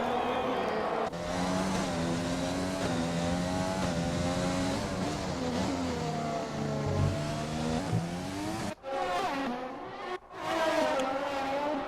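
An F1 race car engine in the F1 2020 game screams and climbs through the revs, with gear changes and downshifts, loud and close with other cars audible nearby, under a commentator's talk.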